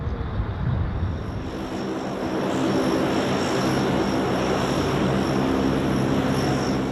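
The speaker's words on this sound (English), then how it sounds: "The remarkable Super Guppy was developed in the 1960s specifically for NASA's needs." Engines of a Super Guppy, the oversized 1960s NASA cargo plane, drone loudly and continuously with a broad propeller roar and steady tonal whine, close and unbroken.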